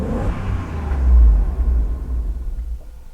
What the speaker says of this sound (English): Let's give it a little rev so you can see another problem it has.